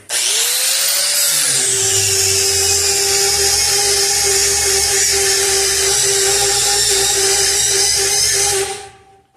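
A regular raw grinding wheel, previously used on stainless steel, spins up and holds a loud, steady high-pitched whine for several seconds before winding down.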